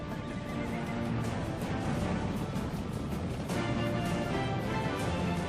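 A wild mustang neighs and whinnies over a dense, continuous backdrop of hooves and movement that stays loud throughout.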